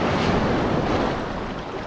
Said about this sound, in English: The waves are big.